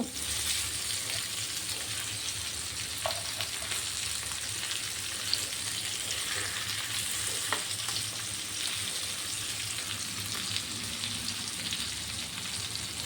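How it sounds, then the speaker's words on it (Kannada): Pomfret fish fries in a pan with a loud, continuous hissing sizzle and a couple of soft bumps as pieces are turned, close and steady with no voices. "ಉಲ್ಟಾಕಿ ಈ ಕಡೆಯೂ ಇನ್ನೊಂದು ಕಡೆಯೂ ಚೆನ್ನಾಗಿ ಫ್ರೈ ಆಗಬೇಕು"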